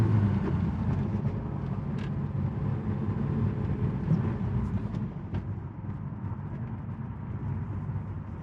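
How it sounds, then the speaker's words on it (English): Heavy city traffic makes a dense, steady low rumble of engines that stays level throughout, with a few faint higher passing sounds over the top and no talking. "this is heavy traffic today"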